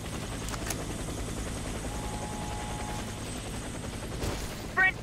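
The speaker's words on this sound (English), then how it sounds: "Move out of the helicopter." Helicopter in the video game Warface, a steady rotor drone holding at even loudness throughout, with a brief mechanical click near the end.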